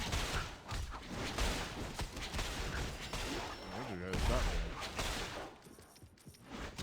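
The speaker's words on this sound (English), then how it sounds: "Yeah, the bartenders have Tommy guns." Bursts of Tommy gun fire from bartenders in the Marvel Heroes Omega video game, rapid and dense with layered battle noise and a speaking voice over it, easing off near the end.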